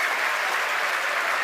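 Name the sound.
crowd cheering and applauding at SpaceX headquarters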